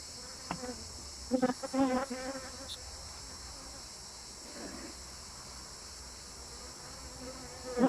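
Honeybees buzz around an opened hive during a beekeeper's inspection, a soft steady hum with a few louder close passes as single bees fly by the microphone.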